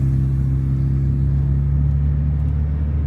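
A Renault Clio 3 RS 197 engine runs close and loud with a steady, humming low rumble. The pitch stays fairly level throughout the short stretch.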